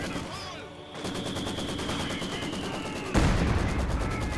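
Artillery-style fire from a 120mm mortar in Company of Heroes 2, heard as dense, continuous battle gunfire with a heavier boom surging in near the end, loud throughout.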